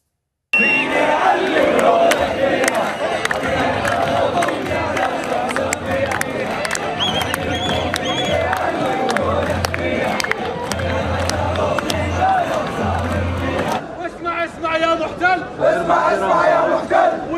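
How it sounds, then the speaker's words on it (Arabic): A large crowd of fans in Souq Waqif, Doha, cheers and chants for Palestine after a football win, loud rhythmic group chanting with rhythmic thumping that fills the whole stretch, dense and close. "شاهدوا الجماهير تحتفل وتهتف لفلسطين من سوق واقف بالدوحة"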